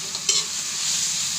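Peeled shrimp tossed into a hot pan for sautéing with garlic for ginisang miswa, giving a steady close sizzle with a brief stirring clatter near the start.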